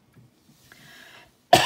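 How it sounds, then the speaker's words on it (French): After a quiet breathy stretch, a single abrupt, close cough bursts out at the very end. "Pardon, excusez-moi, je tousse un peu."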